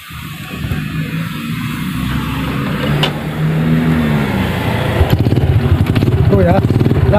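A Jupiter Z motorcycle engine with an overcharging regulator starts and idles in a repair shop, a close mid-pitched running engine that grows steadier, with someone talking over it.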